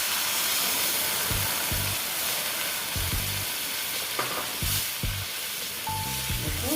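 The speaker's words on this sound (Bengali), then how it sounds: "দেখো জল দিয়ে দিচ্ছি।" Potatoes for ghugni frying in a pan as a little water is poured in, giving a steady loud sizzle and hiss with repeated low scraping knocks of stirring.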